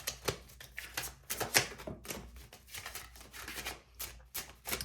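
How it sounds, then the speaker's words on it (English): Tarot cards shuffled by hand, a run of quick crisp riffling bursts and flicks in an irregular rhythm, close and fairly loud. "So as I was shuffling"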